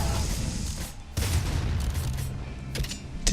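Splinter gun firing in the video game Nuclear Throne, rapid bursts of crackling shots in a steady dense stream, with a couple of sharper louder volleys standing out near the start and end.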